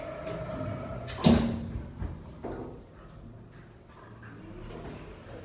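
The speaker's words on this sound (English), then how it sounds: "Doors closing." An Otis Gen 2 lift in a TK Maxx shop in Stratford-upon-Avon sliding its doors shut with a soft thud, then a quieter clunk and a thin high whine from the car, without speech.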